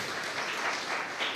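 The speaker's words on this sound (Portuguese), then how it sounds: "Vamos aplaudir o Senhor" A church congregation applauding during a worship service, a short dense burst of clapping from many hands.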